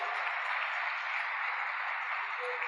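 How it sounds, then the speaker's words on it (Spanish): A church congregation applauds during a Spanish-language sermon, a dense, steady wash of many hands clapping that holds evenly for a few seconds without a clear break. "¿Cuántos le quieren dar un aplauso al Señor?"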